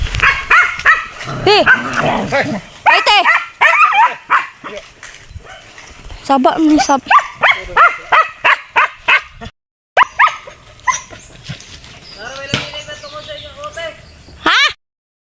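Two dogs bark and yip in short bursts close by, mixed with whimpers, as people chat around them outdoors while gathering firewood; barks recur irregularly throughout.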